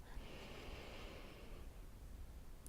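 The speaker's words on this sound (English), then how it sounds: "take a nice deep breath in, filling up the lungs, and very slowly exhale" A deep inhale followed by a slow, steady exhale during a relaxation breathing exercise, a soft airy breath sound held for over two seconds, close and quiet with no talking.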